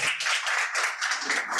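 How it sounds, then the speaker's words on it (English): A brief burst of audience clapping closes a panel discussion on coalition politics. The hands patter steadily and fairly evenly through the short moment, with no voice standing out. "Please give a round of applause."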